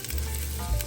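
A short burst of onions and garlic sautéing in oil and butter, an even crackling sizzle heard up close with no talk over it.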